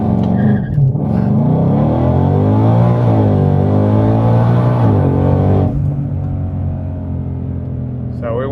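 A 2022 Heritage Edition Track Pack car launching hard from a standstill without launch control, its engine roaring loud and close as it revs up steadily, then dropping in pitch at a gear change.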